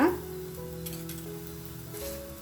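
Wheat-flour lachha paratha sizzles in oil on a hot pan, a steady close frying hiss with a low hum underneath, with no voices.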